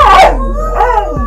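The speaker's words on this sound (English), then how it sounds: "Shh, quiet, dogs." Dog giving a short, loud, close howl, a rising wail followed by a second fainter drawn-out note, in a quiet indoor room.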